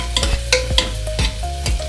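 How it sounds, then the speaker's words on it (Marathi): Finely chopped onion sautés in a pan for a chicken masala, sizzling steadily while a utensil scrapes and stirs in quick, rhythmic strokes close by. "त्याच्यात एक कांदा बारीक कट करून घेतलेला आहे। तो आता आपण व्यवस्थित परतून घ्यायचा, लालसर होईपर्यंत परतून घ्यायचा आहे।"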